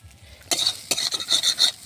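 Potato curry being sautéed in oil with cumin powder, salt and green chilli, heard as scraping stir strokes and clinks of a utensil against the pan over a light sizzle, starting after a quiet moment and continuing in uneven bursts.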